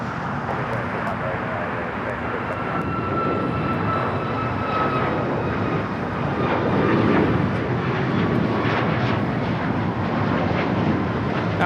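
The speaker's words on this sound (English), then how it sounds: "That was United 394 taking off to Cleveland, Ohio on the MAX 8" United Boeing 737 MAX 8 taking off at Los Angeles LAX, a loud, steady jet engine roar throughout, with a voice talking over it.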